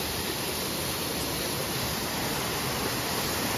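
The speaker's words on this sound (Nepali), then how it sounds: "हाम्रो खोला नदी झर्ना यस्तो छ" A river stream with a waterfall flows as a steady, dense broadband roar of rushing water, constant and fairly close throughout, with no voices.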